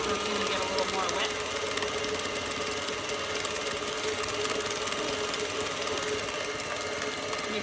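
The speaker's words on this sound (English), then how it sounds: "The mixer took care of it." Electric stand mixer beating cake batter with eggs, a loud, steady motorized whir and rattle that fills the whole stretch without a break.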